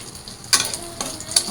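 Onions dropped into a hot pan with garlic for fried rice give a brief burst of sizzling and a few sharp scrapes and ticks of a spoon, short and close.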